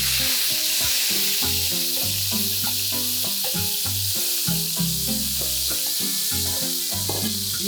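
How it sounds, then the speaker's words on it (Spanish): Lobster tail meat sears in a hot pan while cooking for a Cuban-style paella, giving a loud, continuous sizzle broken by repeated scraping stirs, close up and with no talking. "turno a la langosta, la carne de langosta, que es una cola"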